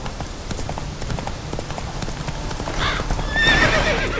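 Horse hooves pound in a quick galloping rhythm in The Witcher 3: The Wild Hunt, then a loud, shrill neigh rises near the end, close by.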